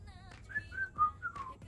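A melodic whistle hook from a K-pop song, several short sliding whistled notes in a catchy phrase over a soft backing track, fairly quiet.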